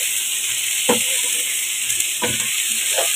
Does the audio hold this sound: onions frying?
yes